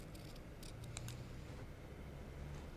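Scissors snip a few short, quiet cuts while trimming out a pupil shape for a paper craft, a handful of crisp clicks close by in a quiet room.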